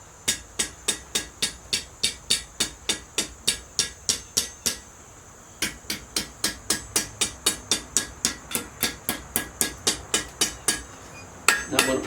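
Hot metal rings under a blacksmith's hammer on an anvil as the point is bent down. The strikes are loud and evenly spaced, with a short pause midway before the steady rhythm resumes.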